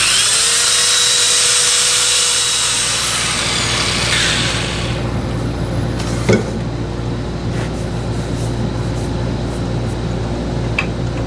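An Ipe wood box spins on a woodturning lathe while 120-grit sandpaper is pressed to it, giving a steady motor hum and whirring with a soft abrasive hiss that eases after a few seconds, and a single brief knock.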